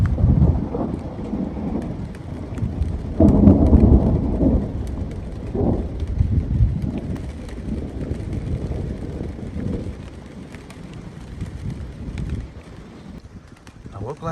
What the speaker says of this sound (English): I woke last night to the sound of thunder.